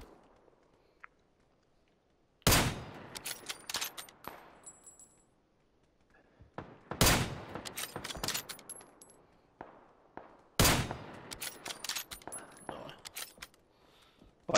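Three sharp bursts of video game gunfire, shooting at a car's tyres, ring out, each trailing into metallic clatter and rattling echoes, with quieter shuffling and faint noises between volleys.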